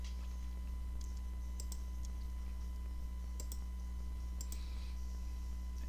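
Computer mouse clicks during drawing work come in small clustered pairs and bursts at a few points, faint and crisp over a steady electrical hum, with no talking.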